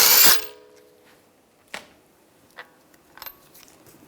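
A power tool briefly whirs loose a lug bolt on the front wheel of a 2013-2016 Dodge Dart, then a few short separate clicks and taps follow, close by in an otherwise quiet space with no talking.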